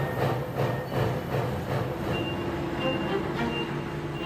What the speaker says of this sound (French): c'est bien le concert bruyant des machines automatisées qui domine